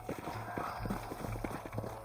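Horse hooves in Red Dead Redemption, set in the Old West of New Austin, beat a steady clip-clop rhythm at a gallop. They sound close and moderately loud over a low rumble, with no voices.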